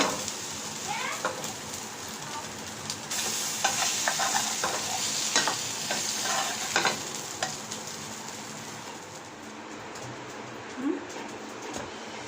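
A paratha fries in a pan with a continuous close sizzle, punctuated by stirring and scraping as it is flipped; a voice speaks briefly beneath.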